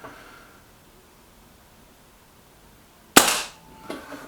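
A single sharp crack of a Walther Rotex RM8 .177 air rifle firing, loud and close, followed by a faint pellet impact a moment later, with quiet background before the shot.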